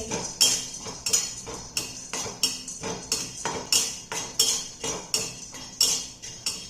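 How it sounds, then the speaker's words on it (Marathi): Roasted gram (dalia) is dry roasted in a pan over medium heat, a spatula scraping and clinking against the metal in a regular back-and-forth rhythm, close and fairly crisp. "आता या ठिकाणी हे जे डाळवा आहे हे भाजून घेत आहे."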